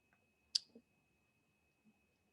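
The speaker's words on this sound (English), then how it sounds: "One thing you want to do is directly click on the connect." A single sharp computer mouse click on a connect button, close and quiet, with faint soft noises around it and no talking.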